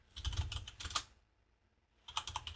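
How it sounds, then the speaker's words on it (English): Rapid keystrokes on a computer keyboard while entering web code, in two close clattering bursts separated by a short pause. "To do this, we simply need to type link"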